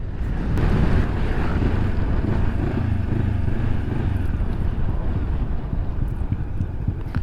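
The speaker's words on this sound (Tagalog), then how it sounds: "Lakas ng hangin" Strong wind buffeting an outdoor microphone beside onion fields in rural Nueva Ecija, a constant low rumbling roar that fills the whole stretch with no voices over it.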